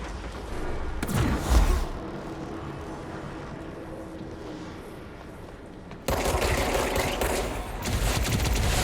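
Gunfire in the game Control: a loud burst early on, then a quieter rumbling stretch, before sustained dense shooting kicks in sharply and continues to the end.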